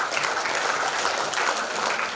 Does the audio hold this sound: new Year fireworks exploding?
no